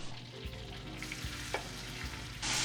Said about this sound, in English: Onion going in our skillet.